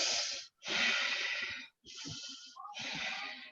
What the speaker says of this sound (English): So deep, long breathing, deep, long breathe out.